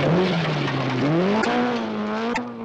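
An Opel Kadett rally car at the 1976 Scottish Rally drives fast past, its engine note rising and wavering as it revs hard, loud and close throughout, with no talk.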